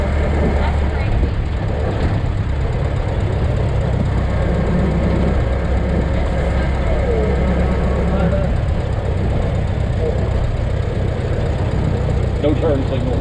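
A 1919 Ford Model T's roughly 20-horsepower engine runs with a steady low rumble beneath a moving ride, while people talk over it throughout.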